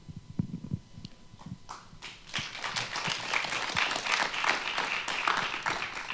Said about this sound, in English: That was just a bunch of applause.